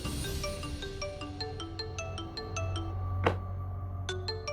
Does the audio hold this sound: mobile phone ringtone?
yes